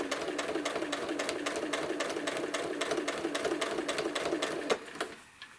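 A sewing machine runs at steady speed quilting an apple core quilt, its needle beating in a fast, even rhythm nearby, then it stops near the end and leaves brief quiet.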